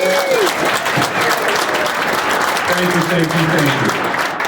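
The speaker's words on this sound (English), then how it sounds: "Give yourselves a big round of applause." Sustained audience clapping fills an awards ceremony for the 24 Hours of Lemons endurance race at High Plains Raceway, loud and steady, with voices talking over it.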